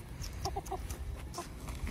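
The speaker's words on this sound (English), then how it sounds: "We've got little chicky chick." Hen on a farm clucks in a few short, quiet bursts against a soft background hum.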